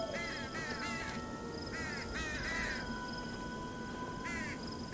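Crows caw repeatedly in short hoarse bursts over a steady ambient drone in a horror video game, the calls coming in clusters at a moderate distance.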